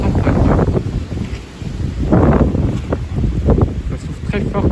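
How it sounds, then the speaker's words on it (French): Strong spring wind gusts above 80 km/h tear through bare, leafless trees, making loud, surging low roars and buffeting that ease briefly and then rise again. "Ça souffle très fort pour la période de l'année là."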